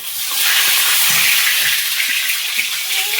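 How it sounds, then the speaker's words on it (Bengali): Oil crackling with panch phoron seeds in a wok, a steady dense sizzle and hiss that stays loud and even throughout, with no voices. "এখন এটা একটা কড়াই বসিয়েছি তাতে তেল দিয়েছি তেলে পাঁচ ফোড়ন দিয়েছি"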